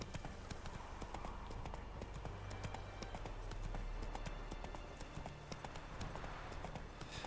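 Horse hooves clip-clop steadily in Witcher 3 as the horse travels with a griffin's head tied to it, a continuous rhythmic clatter over a low ambient bed with no talk.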